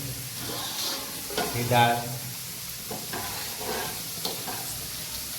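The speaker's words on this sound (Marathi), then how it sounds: "हे बटाटे हे टमाटर कांदा फ्राय चालू" Potatoes, tomatoes and onions fry in a pan for a home-cooked potato bhaji, a steady sizzle with occasional stirring scrapes while a person talks over it.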